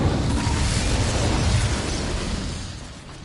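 Incendio fire spell cast in Hogwarts Legacy on PS5: a loud, close, fiery whooshing blast that hits at once and slowly fades over about three seconds, with no talking.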